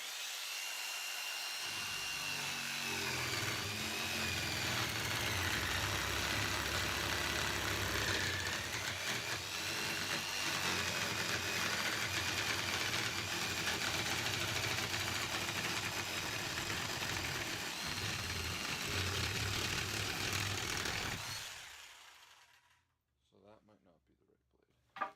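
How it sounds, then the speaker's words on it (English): An old corded 1990s jigsaw cuts out a boat seat base with a continuous buzzing motor and blade rasp lasting about twenty seconds, then winds down and stops, leaving a few faint clicks. "So we'll go ahead and cut this first one out using the old jigsaw from the 90s."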